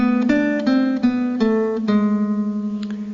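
Classical guitar playing a short phrase of the Malaguena introduction, a few plucked notes over a ringing bass with the final note left to sustain, close and clear with no talking.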